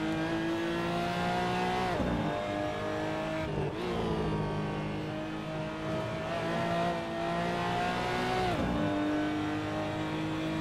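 A racing car engine at full throttle in a racing video game, loud and sustained with a high steady whine that drops sharply at shifts or braking around two, four and eight and a half seconds before climbing again.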